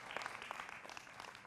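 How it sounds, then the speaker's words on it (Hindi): A studio audience applauds to welcome a guest on a Hindi TV political debate show, a quiet, dense patter of clapping with no voices. "जोरदार तालियों से अभिनंदन है"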